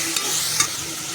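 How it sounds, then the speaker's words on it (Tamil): Onions sautéing in a pan on low heat as the base for a chicken gravy, with a steady soft sizzle and a couple of brief stirring scrapes, close and alone. "நல்லா வதங்கிட்டுருக்கு ஆனியன்."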